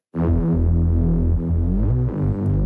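A wide distortion effect soloed and turned up in a music production, giving a loud, sustained, buzzy harmonic tone that throbs steadily for a couple of seconds and shifts pitch near the end, with no voices.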